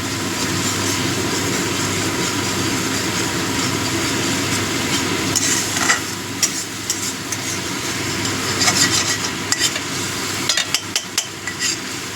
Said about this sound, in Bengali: একটু হলুদ গুঁড়ো দিয়ে দিলাম এটাকে একটু কষিয়ে নেবো